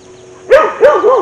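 A dog gives two sharp, loud barks close by, the second trailing into a brief yelp, against a quiet background with a faint steady hum.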